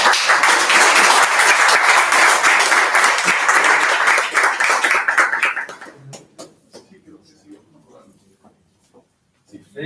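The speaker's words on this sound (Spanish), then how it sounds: "les invito a que le demos un fuerte aplauso" Loud audience applause fills a conference hall at a renewable energy event, dense clapping that fades out after about five seconds, leaving faint scattered claps and noises.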